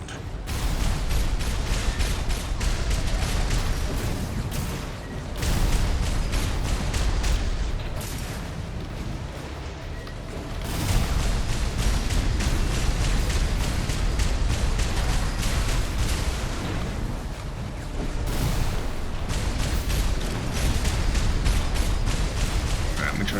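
Explosions on the ground in the mech combat game Armored Core VI, a dense barrage of loud booms and blasts rolling on in waves over a constant rumble, with brief lulls between them.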